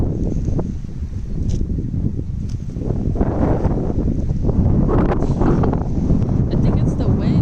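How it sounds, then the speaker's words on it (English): Strong storm wind roars steadily and buffets the microphone, with faint high whistling and gusty rustle throughout, loud and close. "That wind is strong. It is whistling right now."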